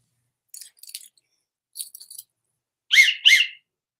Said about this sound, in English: You got your whistle.